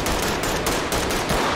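Rapid gunfire in the co-op tactical shooter Ready or Not, a dense, continuous burst of loud automatic shots at close range with no talking.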